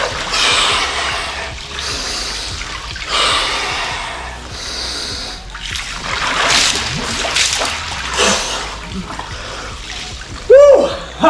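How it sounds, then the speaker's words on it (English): A person lowers into a cold plunge, water splashing and sloshing nearby amid sharp gasps, snorts and heavy breathing, building toward a louder splash and a short vocal cry at the end. "got myself ready to come out and get in the cold plunge"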